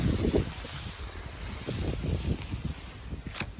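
Outdoor wind buffets the microphone in uneven gusts, a low rumbling roar that rises and falls with no voices.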